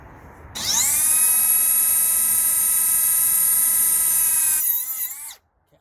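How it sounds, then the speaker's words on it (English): A cutoff wheel slices through a fuel hardline during a K-swap fuel line install: a loud, steady, high-pitched grinding whine that spins up, holds for about four seconds, then winds down and stops. "They sell cutters and stuff, but we're gonna just use a cutoff wheel."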